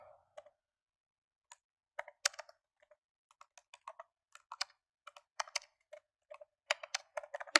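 Quiet bursts of typing on a computer keyboard, close crisp key clicks in irregular clusters separated by short pauses, with nothing else in the room.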